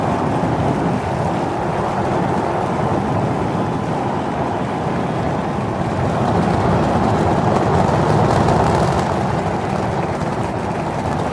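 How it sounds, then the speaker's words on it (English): A SpaceX Starship rocket lifting off on its seventh integrated flight test sends out a dense, steady roar heard from a distance, broadband and rumbling without a break, swelling slightly near the end. "5, 4, 3, 2, 1. We have liftoff."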